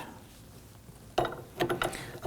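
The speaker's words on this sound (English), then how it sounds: "let's go ahead and start tightening that nut down" A nut on a rear shock absorber of a Nissan Murano is tightened with a ratchet: a few quick close clicks and metallic ticks in a short burst after a quiet start.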